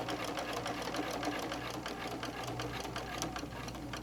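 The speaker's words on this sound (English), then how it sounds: "if your machine is pretty good about going through thickness, just going through slow is just fine" A sewing machine stitching slowly through a thick quilted bowl cozy, a steady, even mechanical hum with a soft rapid needle chatter, quiet and close, without speech.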